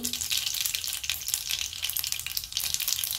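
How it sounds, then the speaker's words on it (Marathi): Mustard seeds sizzling in hot oil for baingan bharta, a loud, dense crackle and spatter that continues without a break, close to the pan. "आता आपण आता मोहरी टाकून घेऊ"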